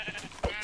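A baby sheep in Minecraft gives a single short bleat over soft background game sounds.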